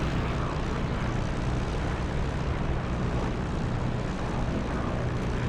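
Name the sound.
propeller aircraft engine taxiing in a flight simulator video game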